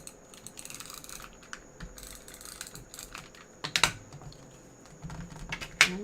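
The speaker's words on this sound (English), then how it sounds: "just run some tape runner right along each side" A tape runner pressed along the edges of a handmade shaker card gives quiet, ratcheting clicks and rolling scratches, close and sporadic, with a couple of sharper clacks near the end.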